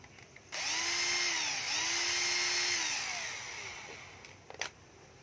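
A cordless battery drill revs up and runs for several seconds with a steady whining motor tone that dips slightly in pitch mid-run, then winds down, heard close in a quiet room.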